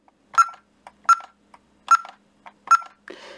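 A Honeywell Ademco alarm keypad chirps as a code is entered. Four evenly spaced, crisp electronic beeps are followed by a brief, softer, fuzzier tone, all close and clear in a quiet room.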